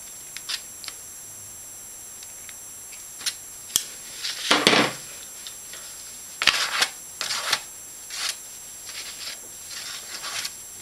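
Scissors snip through hair in a series of short, crisp cuts, irregularly spaced clusters of sharp blade clicks close by with no talking.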